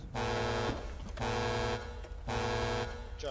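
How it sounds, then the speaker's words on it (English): Three long electronic buzzing alarm tones of about half a second each, evenly spaced with short gaps, moderately loud and close, sounding on emergency equipment at a roadside incident scene, with no talk. "Did the alarm just go off on the thing?"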